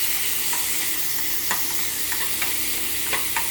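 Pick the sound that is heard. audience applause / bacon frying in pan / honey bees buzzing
bacon frying in pan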